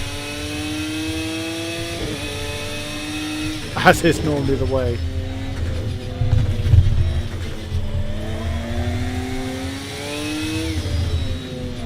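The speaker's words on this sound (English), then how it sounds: "I can hear engine noises again." Race car engines revving and shifting in a racing video game, rising and falling whines with a sharp burst of acceleration, while someone talks over the driving.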